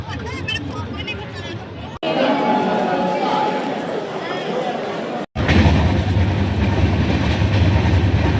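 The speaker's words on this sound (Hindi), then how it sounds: "Railway station." A train at a busy railway station in Jaipur in hot weather, with a loud rumbling rail and carriage noise and a hubbub of crowd chatter, cut by two brief gaps.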